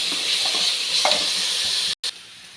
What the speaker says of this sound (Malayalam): നമുക്കിത് അതൊന്ന് നല്ലപോലെ അതിൻ്റെ പച്ചമണം വാടുന്നിടം വരെ നമുക്കത് വഴറ്റിക്കൊണ്ടിരിക്കാം